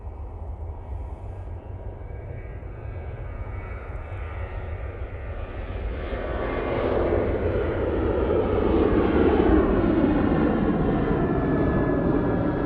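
A Ryanair airliner rolls for takeoff at Manchester Airport. A sustained jet engine roar builds and swells partway through, growing louder and fuller as the aircraft accelerates down the runway, with no voices over it.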